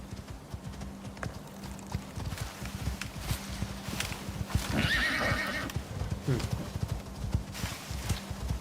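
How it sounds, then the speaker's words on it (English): A horse in a survival video game trots with rhythmic clip-clop hooves and gives a loud whinny midway, while a person talks intermittently over the game sounds. "Obviously taking my fastest horse."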